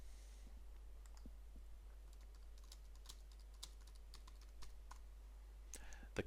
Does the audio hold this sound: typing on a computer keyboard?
yes